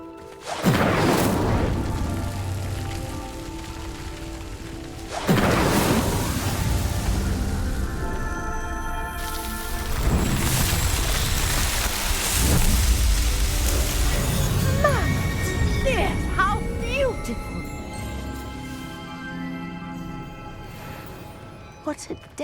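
Incendio fire spell in Hogwarts Legacy igniting pyres, heard as three loud whooshing bursts spaced several seconds apart over a dense bed of game music and ambience, with voices talking throughout.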